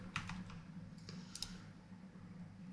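Light, soft tapping on a computer keyboard while multiboxing in World of Warcraft Classic Era: a handful of quiet clustered key clicks, close but faint, over a steady low background hum.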